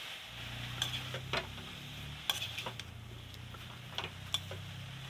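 Khutura greens being stirred and fried in a pan for a village-style fish curry: a soft, low sizzle under intermittent scrapes and clinks of a utensil against the pan, close and fairly quiet, with no talking.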